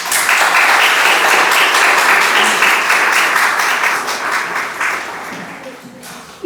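Audience at an evening book event breaks into sustained, dense applause, loud and close, holding steady for several seconds before thinning out and fading.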